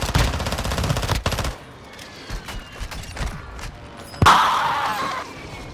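Automatic weapon fire in the shooter Warzone 2: rapid, loud bursts of gunfire fill the first second and a half, then quieter game sounds follow before another sharp shot and a rushing burst near the end.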